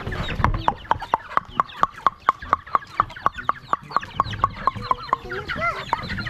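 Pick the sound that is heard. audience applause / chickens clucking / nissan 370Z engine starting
chickens clucking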